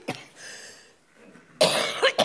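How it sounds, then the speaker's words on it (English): A person with a chronic cough coughs once briefly, then after a quiet pause lets out a harsh, loud burst of coughing, two or three rough hacks close up. "sorry, I have this chronic cough."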